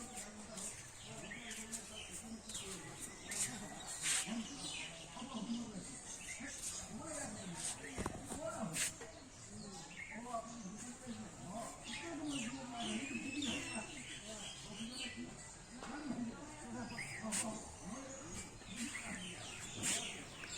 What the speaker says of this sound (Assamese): চৰাই চিৰিকটিৰ মাত শুনিছে নে নাই